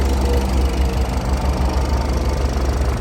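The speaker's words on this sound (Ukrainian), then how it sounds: "Так, послухайте, як собі працює мотор." A Renault Koleos 2.0 dCi diesel engine, 110 kW, 4x4 automatic, idles close by with a steady low rumble and a slight knocking texture, alone without talking.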